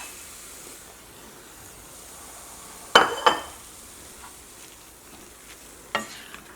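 A low, continuous sizzle from a pan on a low flame, broken by a few brief scraping clinks as a green gram laddu mixture is stirred.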